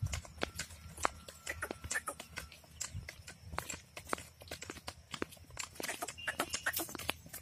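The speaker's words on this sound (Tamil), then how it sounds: "இப்போ வந்து குதிரை வந்து நடையில் தான் போகுது" A native-breed horse walking under a rider, its hooves clip-clopping in a steady, close, fairly busy rhythm through the whole stretch, with low rumbling and handling noise beneath.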